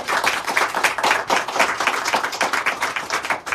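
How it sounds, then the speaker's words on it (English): Round of applause from an audience at the Maryland Preservation Awards ceremony for the City of Gaithersburg, steady close clapping of many hands sustained throughout without talk. "Let's give her a round of applause."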